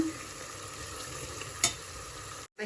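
Masala paste fries gently in oil on a low gas flame, a soft continuous sizzle with faint crackles and one brief clink, cutting out abruptly at the end.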